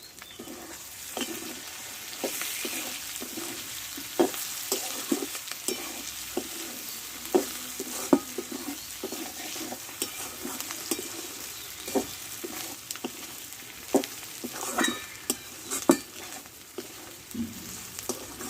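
A dry potato and pointed gourd curry sizzles steadily in a pan while a spatula stirs and scrapes it in repeated clattering strokes, close and clear, with faint bird calls in the background.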